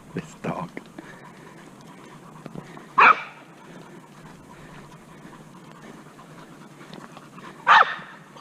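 A young pit bull and mastiff mix, about a year and a half old, on a park trail walk in Broward County, Florida, gives two loud, sharp barks a few seconds apart over soft panting and quiet outdoor background.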